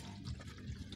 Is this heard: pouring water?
yes